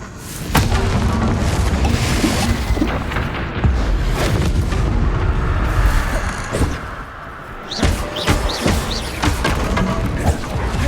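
Confringo fire spell explosions in Hogwarts Legacy during combat, heavy booming blasts and crashing impacts layered over rumbling battle noise, loud and dense with sharper hits toward the end.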